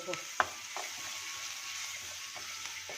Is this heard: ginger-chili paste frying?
yes